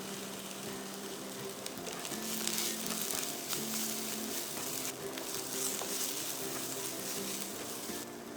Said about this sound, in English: fry your onions and garlic for about a minute or two to soften the onions